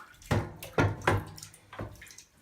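Water is poured out of a toilet tank into a bucket in four separate sloshing splashes, close and fairly loud, with short pauses between them.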